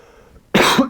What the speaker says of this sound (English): I almost never cough.